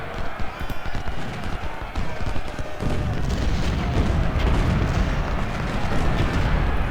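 Continuous rumbling battle noise with booming cannon fire from 10-pounder guns in the Civil War strategy game Ultimate General, dense and steady throughout, with no clear pauses.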